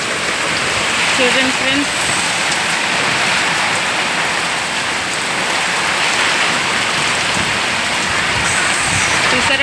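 Heavy rain pours down steadily in Andhra, a dense, loud broadband roar of water hitting surfaces throughout, with someone speaking briefly over it.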